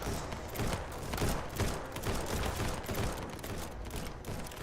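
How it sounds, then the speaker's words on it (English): Dense, continuous gunfire from many weapons in the Ancient Warfare 3 video game, sustained rapid volleys and crackling shots layered into a loud, unbroken battle din. "It was hard to hear over the gunfire"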